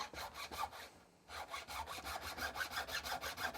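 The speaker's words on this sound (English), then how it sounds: "what I like to do that with is this Crimson Guitars nut and fret end file" Steady back-and-forth rasping strokes of a Crimson Guitars nut and fret end file shaping a bone nut for an Epiphone Sheraton guitar, close and rhythmic, with one brief pause.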